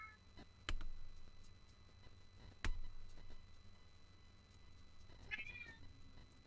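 A house cat meows near a door, asking to be let in, with a faint plaintive call late in the clip over a quiet room marked by a couple of sharp knocks or taps.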